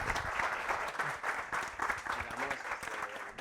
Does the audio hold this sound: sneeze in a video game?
no